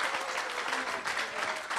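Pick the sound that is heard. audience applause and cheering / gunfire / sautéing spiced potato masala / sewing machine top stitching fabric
audience applause and cheering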